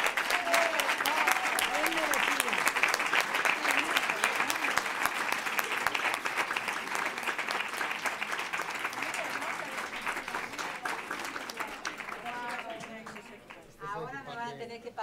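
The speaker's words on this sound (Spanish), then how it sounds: "Un aplauso fuerte," An audience applauds loudly during a medal presentation at an academic lecture event. The clapping is dense and sustained, voices are heard talking over it, and it thins out near the end.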